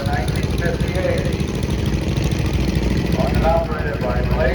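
A 1958 International Cub Lowboy tractor in an antique tractor parade, engine running at a steady idle-like chug, fairly close and constant, while an announcer talks over it.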